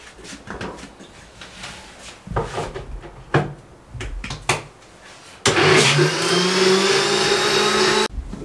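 A mixer grinder jar grinds cumin seeds after some clatter and handling knocks, then the motor kicks in with a loud, steady whirring roar lasting close to three seconds before cutting off abruptly.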